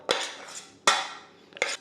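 Soft mashed potato is spooned and scraped into a bowl of pie filling with onion, three brief clinks of a utensil against the bowl, close and clear with no talk.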